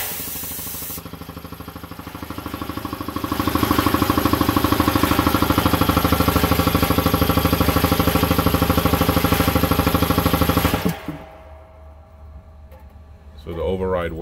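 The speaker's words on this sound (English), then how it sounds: "press this button to turn the compressor on" An air compressor running loud and close, a steady pounding, clattering drone that swells after a few seconds, holds, then cuts off abruptly, leaving quiet room sound and a brief noise at the end.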